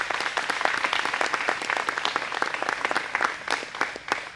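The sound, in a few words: audience applause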